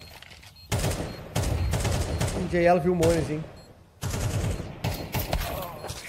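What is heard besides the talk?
gunfire in Counter-Strike video game match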